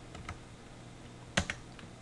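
Values are typed on a computer keyboard, a few quick close key clicks in two short clusters against a quiet background.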